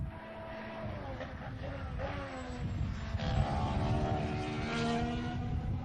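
A Lotus Formula 1 car approaches at a Bahrain test session, its high-pitched engine whine rising and growing louder over a continuous rumble, with a voice talking over the engine.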